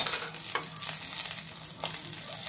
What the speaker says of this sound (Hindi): और मैं काजू को फ्राई कर लेते हैं